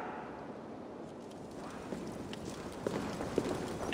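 Horse hooves in Assassin's Creed Valhalla clop steadily at a walking pace over a continuous outdoor game ambience, with a few sharper hoof strikes near the end.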